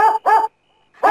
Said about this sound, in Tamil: நம்ம நாய் முத்து முத்து